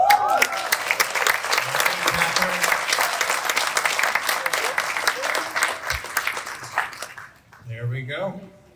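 Audience applause at a community awards ceremony, a dense, close burst of clapping from a crowd that holds steady for several seconds, then fades out as voices take over at the end.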